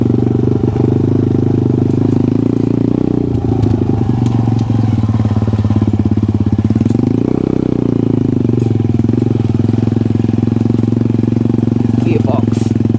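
A CF140 pit bike with a swapped-in Lifan 140cc engine runs steadily at a low, rumbling idle with some clatter. It stays loud and close for the whole stretch and has a few known faults, including a slipping kickstart and a failing gearbox.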